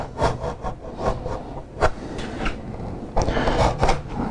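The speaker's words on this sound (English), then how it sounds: "Get with our knife and get over the top of the stud." A knife cuts and trims over the top of a wall stud while a speaker is fitted, producing close, scraping rubs and rough cutting strokes with a few sharper scuffs.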